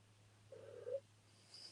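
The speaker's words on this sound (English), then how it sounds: "Can someone hear this cat? This cat is saying he's hungry." A hungry house cat lets out one short, soft meow, faint and fairly close, against a quiet room with a steady low hum.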